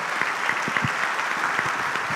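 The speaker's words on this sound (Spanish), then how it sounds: "Denle el aplauso al Señor." A church congregation claps together in quiet, even applause, a soft patter of many hands heard from across the room.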